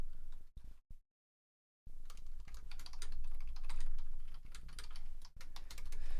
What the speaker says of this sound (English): But I have a hard time typing and talking at the same time,